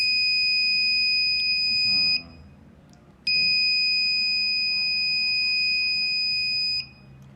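A shrill electronic buzzer on an embedded circuit sounds at a button press in two long, steady tones, the second starting after a brief pause; it is loud and close with faint background noise.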